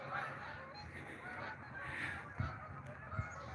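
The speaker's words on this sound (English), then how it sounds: "Got geese. Come on, give me a good V." Geese honk repeatedly in the distance, scattered calls overhead against a breezy outdoor background.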